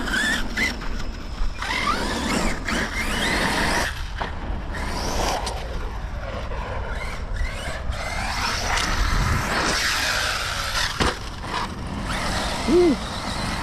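An Arrma Kraton XL RC car on a bashing and jumping run, electric motor whining and gravel-scraping wheels near the recorder, rising and falling with repeated surges and brief clatters.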